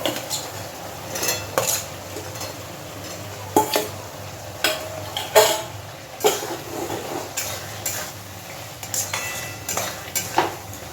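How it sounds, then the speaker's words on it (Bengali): Fried potatoes added to a cooked spice masala in a pan for ghugni and stirred, with repeated clanks of a spatula against the metal pan and a faint sizzle in between. "এবার আমি ভেজে রাখা আলুগুলো এর মধ্যে দিয়ে দেব।"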